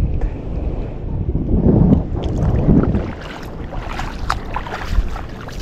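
Steady wind buffets the microphone on a boat while squid fishing, a low rumbling roar that swells and eases, with faint water and boat noises in the background.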